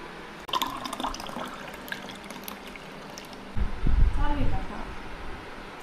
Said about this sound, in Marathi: तर इथं मी ग्लासमध्ये ओतून घेते।